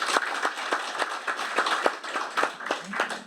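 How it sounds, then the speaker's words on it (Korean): An audience at a National Assembly forum in Korea applauds to welcome two officials from the land and labor ministries, giving moderate, uneven clapping that rises and falls for a few seconds with no clear talk over it. "큰 박수로 환영해 주시면 고맙겠습니다"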